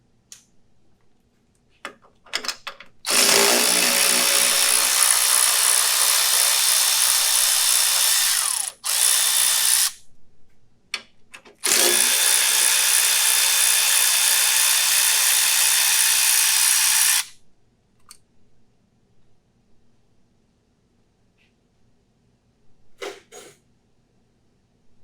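Power tool backing out bolts from a C5 Corvette power steering cooler, a loud, steady, close whir running in two long bursts of about five seconds each with a brief gap, then faint handling clatter.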